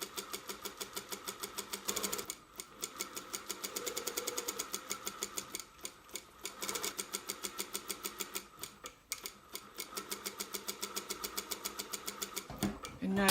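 A sewing machine runs a stay stitch around a collar's neck edge, its rapid needle strokes pausing and restarting in several close bursts, with a voice talking over it.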